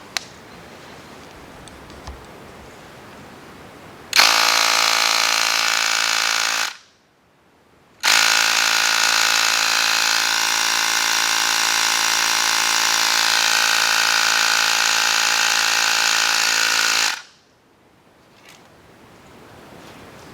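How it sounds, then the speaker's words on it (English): A Ryobi ONE+ 18V cordless high-pressure inflator with digital gauge pumps in two loud, steady buzzing runs, about two and ten seconds long, separated by a brief pause. It is close, with quiet room tone before and after and no talking. "I pumped it, I hit the trigger, and it's letting me know it's 28 psi on it."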